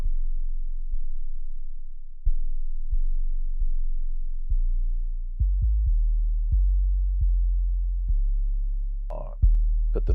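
Trap bass line copied and transposed up in a beat session for a rap song: deep sustained sine-like bass notes in a slow, stepping pattern, loud and alone, with one brief higher blip near the end.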